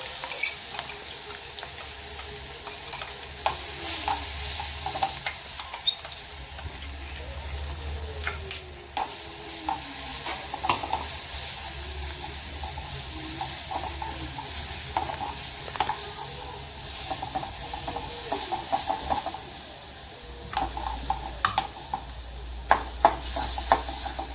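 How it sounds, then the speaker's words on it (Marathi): Cumin seeds crackling and a coarsely ground spice paste sizzling in a pan while cooking a mixed vegetable bhaji, a continuous frying hiss with scattered pops and occasional stirring scrapes, fairly close and without talk. "नंतर आपण जिरं टाकू जिरं तडतडलं का हिंग टाकू आणि हे आबडदोबड वाटण वाटलेलं त्यामध्ये टाकू"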